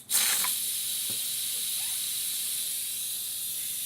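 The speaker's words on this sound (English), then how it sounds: "We're just going to release the pressure." Steam hisses sharply from an Instant Pot's pressure release after cooking ribs, a loud burst that settles into a steady, continuous hiss with a faint clunk, with no talking.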